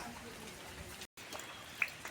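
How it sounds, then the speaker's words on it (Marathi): Steady light rain of the first monsoon in Konkan, a soft continuous patter with a brief gap and one faint drip standing out, no talk over it. "पाऊस पडतोय"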